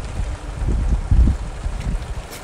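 Iron-hulled fishing boat from Phu Yen motoring close alongside another boat at sea, its low engine throb pulsing under wind buffeting the microphone, with no one talking.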